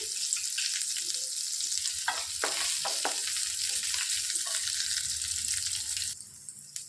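A dried red chilli fries in hot oil with a bright, crackling sizzle that goes on for several seconds, with a few stirring knocks partway through before the sound dips near the end.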